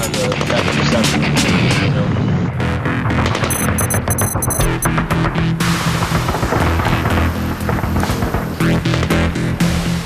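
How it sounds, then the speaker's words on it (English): Heavy gunfire exchange at a helicopter crash site during a military convoy battle, dense bursts of rapid shots and booms packed under a continuous loud wash of music and chaos, never letting up. "There was no mistaking where that convoy was because the exchange of gunfire was unbelievable"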